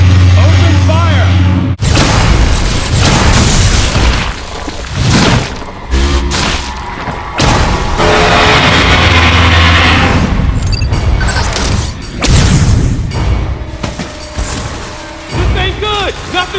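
Loud gunfire and booming explosions from Metroid: Other M, with bursts, blasts and heavy thuds tumbling over each other in rapid succession, mixed with shouting voices and intense sound effects.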